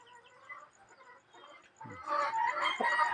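Chickens cluck and murmur softly at feeding time, a steady low chatter that grows busier and louder toward the end.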